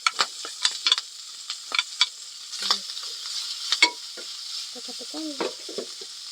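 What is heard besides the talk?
salted pork frying in its own fat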